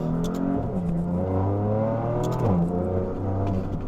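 Heavily modified 2017 BMW M3 Competition with paddle shifters accelerating hard, engine note climbing and dropping through several rapid gear changes, loud and close from inside the car.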